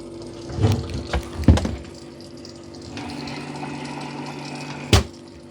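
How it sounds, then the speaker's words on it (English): The dock of a Mova P10 robot vacuum fitted with an auto water kit pours water for its mop pads, a brief splashing trickle over a low pump hum, close, with a few soft knocks. "Almost like it's doing a mop wash. Yeah, like it's putting water down there maybe for the mop pads."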